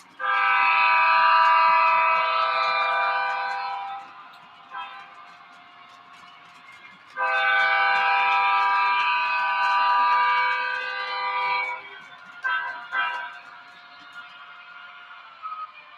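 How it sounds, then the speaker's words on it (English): A model train horn on a layout, an upgraded Pennsylvania Railroad engine, blows two long, loud, chord-like blasts separated by a quiet gap, followed by a few short toots. "That is an awesome horn."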